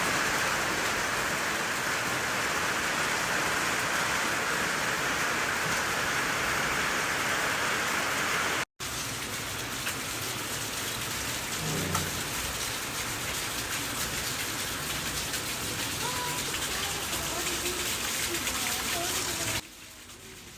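Heavy rain pours down outside in Islamabad, Pakistan, a constant dense hiss that runs unbroken for about twenty seconds with a brief cut midway.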